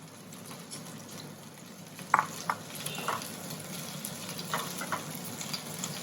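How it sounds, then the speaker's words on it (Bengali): Chopped ingredients frying gently in a pan for butter chicken, a soft steady sizzle with a few brief clinks and scrapes, close and fairly quiet, with no talking. "খুব বেশি লাল করে ভাজার দরকার নেই, একটু ভাজলেই হবে।"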